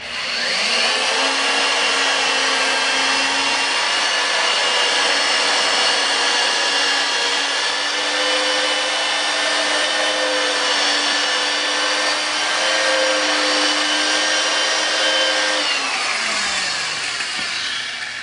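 A 3M power drill system spins a gold, roughest-grit sanding disc against a Ford F150 headlight, giving a continuous close, loud whirring drone with a steady pitch that winds down at the end.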